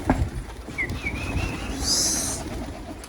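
A brief pigeon call rises faintly over steady outdoor background noise, with a soft cooing quality and a short whistle-like tone.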